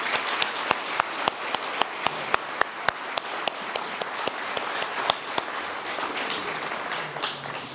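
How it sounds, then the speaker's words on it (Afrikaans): A church congregation applauds grade 12 learners with a run of sharp, evenly spaced claps over a general patter of applause, fading slightly toward the end. "Kom ons gee vir hulle 'n groot hande klap."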